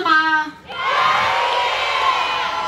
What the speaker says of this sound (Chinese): 你听现场的掌声